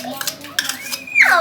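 Pancit canton noodles are stirred in a pan, giving a brief close clatter and scrape of utensil on metal with a short squeak while a voice is heard nearby.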